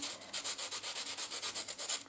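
A charcoal pencil being sharpened for tree drawing, heard as steady rhythmic scraping strokes at close range, about a dozen quick even rasps in a row with no voices.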